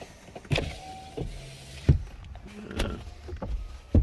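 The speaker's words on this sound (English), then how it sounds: "it's time to give it a quick test. Make sure the windows are working" Car power windows run in short motorized bursts as they are tested, each whine starting and stopping with soft clunks at the ends of travel, close by in a quiet cabin.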